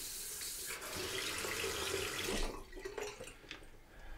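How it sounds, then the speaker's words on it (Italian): Water from an outdoor garden shower runs in a steady splashing hiss, loud and constant, easing slightly and turning more broken and trickling toward the end. "Vedi, questa è una doccia per lavarmi la testa."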